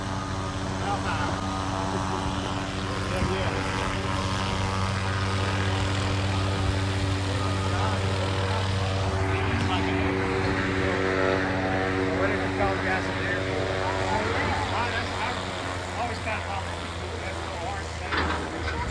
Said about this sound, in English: As soon as the helicopter clears